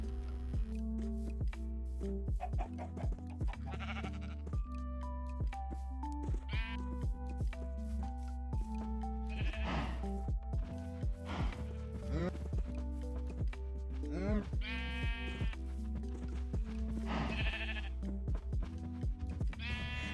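Sheep in the Minecraft video game bleat again and again over a steady droning music bed, several wavering calls spread across the stretch, mixed with soft squishy footsteps and game noises.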